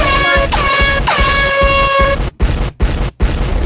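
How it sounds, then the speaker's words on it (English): A very loud, blaring air horn sounds in long repeated blasts, then breaks into three short choppy honks separated by abrupt silences. "Clumsy, keep repeating the air horn in a certain pattern"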